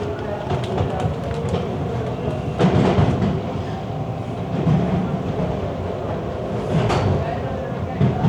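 A Toronto subway train pulls out of Kennedy Station in the evening, its steady rumble and wheel clatter filling the car from the inside, with a voice talking over it.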